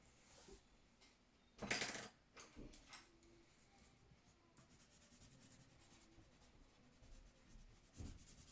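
A pencil sketches a cylinder on paper with faint, soft scratching strokes, one sharper burst near the start and a quiet, steady shading rasp later on.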